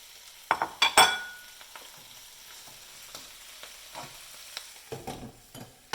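Kale leaves and tofu puffs land in a hot pan with a few sharp clatters and sizzles. A quieter frying hiss follows, broken by scattered stirring taps.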